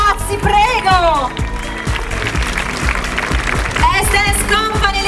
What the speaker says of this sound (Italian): Prendetevelo questo applauso, ragazzi, prego!